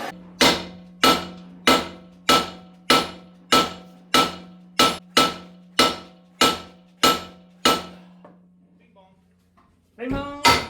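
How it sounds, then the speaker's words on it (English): An 8-pound short-handled hammer strikes LBZ torsion bars in a steady series of about fourteen loud, sharp metallic blows with ringing tails, a faint hum beneath, then a pause before a burst of voices at the end. "I have an 8-pounder hammer with a short handle."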